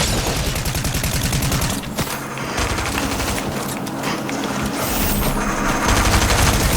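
Rapid automatic gunfire rattles in the Fortnite video game, with continuous bursts of shots, a few short pauses and booming impacts, loud and close.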